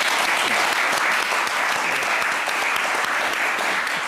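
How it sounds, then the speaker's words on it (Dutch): Loud, dense applause from a television studio audience, sustained evenly throughout with no pauses, close and full. "Geef hem eens even een applaus."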